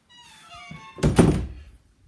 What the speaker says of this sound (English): She's there because I heard a door close.